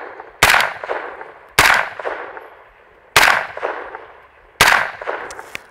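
Four sharp, loud 9mm gunshots from a KP9 pistol fitted with a Witt Machine SME muzzle device, fired at an uneven pace, each crack followed by a short ringing decay outdoors.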